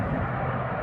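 A Jet2 passenger jet bound for Catalonia roars continuously at East Midlands Airport. The engine gives a loud, broad, steady rumble that fills the whole short stretch with no talk.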